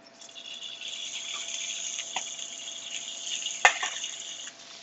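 Shrimp sizzle in hot oil in a pan for New Orleans BBQ shrimp, a steady hissing crackle that builds from quiet, with a faint clink of tongs partway through and no talking.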